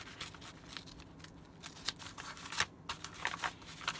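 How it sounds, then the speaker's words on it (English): Scissors snip through a cheap, flimsy Dollar Tree bag, making a series of quiet, close crisp cuts and faint crinkles spread unevenly through the moment, with no voices. "I'm going to cut it apart anyways"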